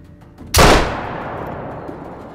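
A single loud rifle shot in the hunting game Hunter Call of the Wild, a sharp close blast followed by a long rolling echo that fades out.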